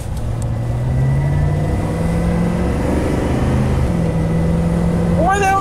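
A GM truck with a misfire runs steadily in first gear, its drone rising in pitch before the transmission shifts up partway through. The engine is loud and close, with a brief whine near the end.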